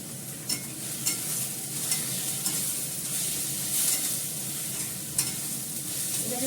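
Sautéing and stirring mutton biryani masala in a pan, a steady close sizzle with repeated scraping strokes of a spoon against the pan, no voices.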